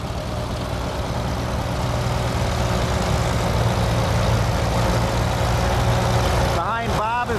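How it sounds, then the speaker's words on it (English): A 1945 Farmall H antique tractor runs at a steady low idle as it is driven past at an antique tractor show, a constant rumbling drone, with a voice breaking in near the end. "Next tractor coming is a 1945 Farmall H, owned by Bob Klock, and it's being driven by Bob Klock"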